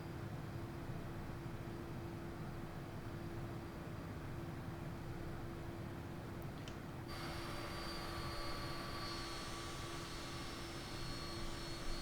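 Steady aircraft engine drone in the MSFS 2024 flight simulator, a continuous hum with a constant tonal whine, running alone without talk and shifting slightly in tone partway through.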